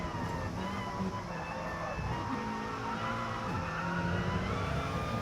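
Onboard race car engine during an endurance race, a steady, loud drone with shifting revs through corners that never drops away.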